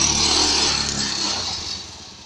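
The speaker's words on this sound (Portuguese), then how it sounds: "O trator tá patinando o morro acima" A homemade tractor's engine strains loudly up a steep dirt hill, wheels slipping, with a harsh raspy drone that fades gradually as it climbs away.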